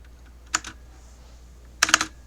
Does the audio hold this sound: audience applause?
no